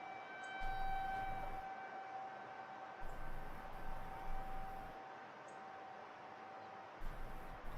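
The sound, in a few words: distant tornado sirens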